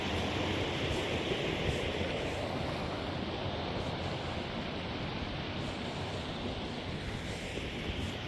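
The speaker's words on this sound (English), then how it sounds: "Here's the creek, which you can probably hear." A creek on the Appalachian Trail rushes in a steady, broad wash of flowing water, close and continuous with no voices.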